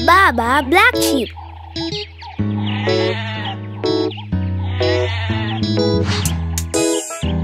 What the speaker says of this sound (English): Baa Baa Black Sheep